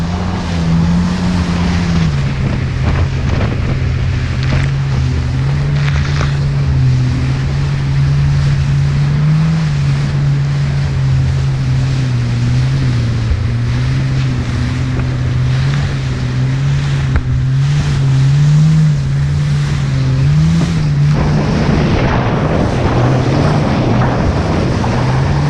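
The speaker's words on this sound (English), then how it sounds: "you notice the wind picked up and it's really choppy now" A motorboat runs near the port of Miami through choppy water in picked-up wind, its engine drone steady and loud under constant wind rush and slapping waves, with rougher splashing toward the end.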